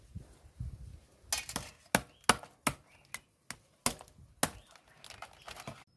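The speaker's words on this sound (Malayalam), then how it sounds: "ഈ രണ്ട് ഇറുക്കൻ സാധനത്തിന് നേരം മുട്ട കൊടുക്കുക ഇങ്ങനെ മുട്ടുക" Crab claws for a homestyle crab curry are knocked hard to crack them open: around ten sharp, close, irregular cracking knocks ring out in quick succession with brief quiet gaps, and no one speaks.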